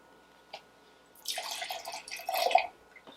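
Two ounces of rye whiskey poured into a glass for a cocktail: a faint tap, then a short gurgling liquid stream lasting about a second and a half, close and quiet, no voices.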